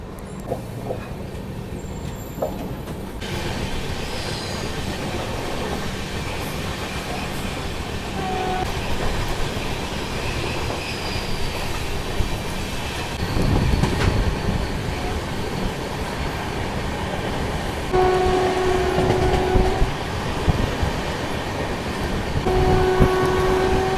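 A WDG4G diesel locomotive from the Gandhidham shed rumbles past, hauling an express, with steady wheel and engine noise and a few long horn blasts near the end.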